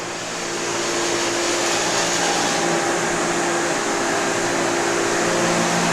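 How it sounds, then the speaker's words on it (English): Two pumps run together, moving and mixing methanol between a big tank and another in a biodiesel setup, giving a loud steady mechanical drone with a constant hum that stays unchanged throughout. "So the methanol pump is still running, it's just mixing. I turn the other one on, it gets a little loud."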